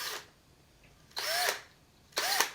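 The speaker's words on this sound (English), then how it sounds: "Now I'm going to drill the holes in it" A power drill boring holes in a body mount for a Marui Bear RC truck, heard in three short whining bursts separated by pauses, close and fairly loud with no talk.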